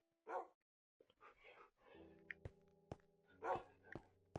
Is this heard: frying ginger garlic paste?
no